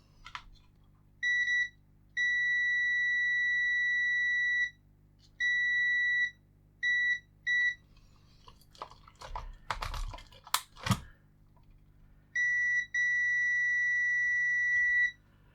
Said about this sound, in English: Multimeter and continuity.